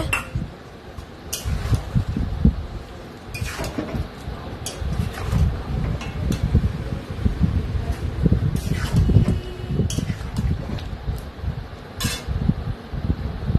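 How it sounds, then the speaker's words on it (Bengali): A spoon stirs mutton with spices in a cooking pot, giving repeated scraping and metallic clinks in irregular bursts over a low sizzling hiss. "মশলা দিয়ে ভালো করে নাড়াচাড়া করে"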